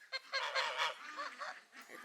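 Geese honking close by near ducks on a rainy day, a quick run of several loud, nasal honks and calls overlapping one another.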